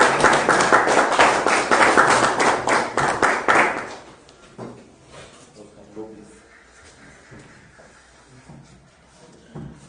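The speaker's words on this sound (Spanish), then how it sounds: "que está a cargo del fraterno Óscar Álvarez, el cual recibimos con fuertes aplausos" An audience at an indoor gathering gives loud, rhythmic applause for about four seconds before it breaks off. Quieter shuffling and talking follow.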